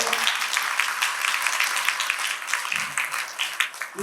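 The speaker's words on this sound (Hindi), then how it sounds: "तो एक जोरदार ताली अपने लिए बजाओ।" An audience claps loudly and continuously at a Mahashivratri celebration at Anand Sarovar, Sirsa, a dense wash of applause that stays steady throughout.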